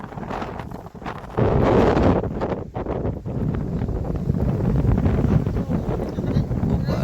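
Strong gusting cyclone wind buffets the microphone outdoors in a loud, continuous roar with rustling and flapping throughout.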